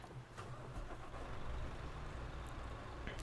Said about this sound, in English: if we turn the truck on now